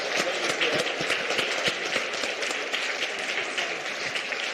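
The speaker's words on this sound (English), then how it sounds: "Please let's just give a round of applause to our" Audience at a competition law and economics conference applauds the panelists, a dense, steady patter of many hands clapping throughout, fairly close and continuous.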